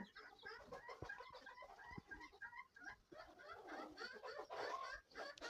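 Hens cluck in short, irregular bursts, several birds close together, with a busy farmyard murmur underneath.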